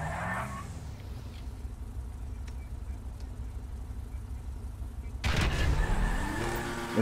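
Ocelot Pariah and Dinka Jester sports cars in GTA 5 accelerate, with a steady engine drone followed by a sudden louder surge of revving and rising whine toward the end.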